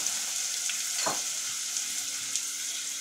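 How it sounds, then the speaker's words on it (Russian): Steady, close sizzling and crackling of carrots and onions frying in hot oil, with an occasional stir or clatter, no voices. "забрасываем нашу зажарочку будущую, морковь и лук. В разогретое масло"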